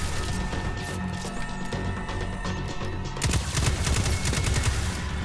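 Dense automatic gunfire rattles through a Destiny 2 firefight in rapid, overlapping bursts, growing heavier and more percussive in the second half.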